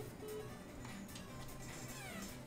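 A cat meows indoors, several short, moderately loud cries spread across a couple of seconds, heard over a steady background hum with no talking.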